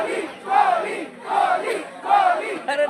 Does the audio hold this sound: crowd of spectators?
yes